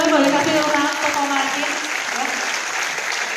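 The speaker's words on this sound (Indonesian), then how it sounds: "boleh kasih tepuk tangan ke" Audience applause at a business event rises right away and holds as a dense wash of clapping, with voices heard over it.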